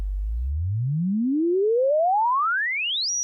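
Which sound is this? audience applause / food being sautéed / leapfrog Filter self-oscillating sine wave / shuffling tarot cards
leapfrog Filter self-oscillating sine wave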